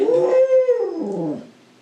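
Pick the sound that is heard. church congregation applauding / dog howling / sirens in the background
dog howling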